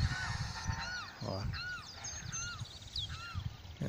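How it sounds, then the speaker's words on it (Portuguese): Several birds calling loudly, honking, cawing cries repeating in quick succession over a background murmur of outdoor noise. "Tem até os animais aí, os passarinhos gritando."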